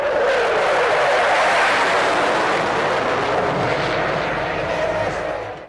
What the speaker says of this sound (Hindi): पाक फिजाइया के तैयारों की घनघोर से इलाका गूंज उठा।